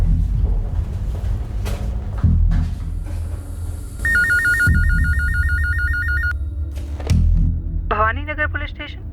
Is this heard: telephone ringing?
yes